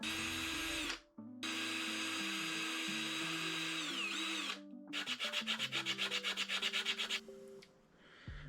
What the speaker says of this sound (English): I think I'm gonna drill the holes now.